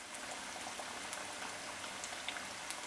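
Masala-coated fish fries in a pan over a medium flame, giving a soft, constant sizzle with faint scattered pops and crackles, close and low in level.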